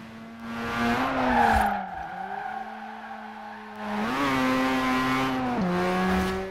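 A turbocharged two-rotor Mazda RX-7 Spirit R Type A (2002) drifting in Forza Horizon 4, its rotary engine droning steadily and rising in pitch with revs, with a strained tire squeal as it slides sideways through corners.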